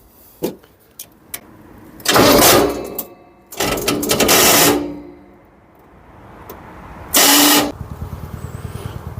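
A handmade custom trike with a V8 8500cc engine gets cranked in several loud, close bursts, each starter burst cutting off before the next, and the last burst is followed by sharp ticking clicks; no one speaks.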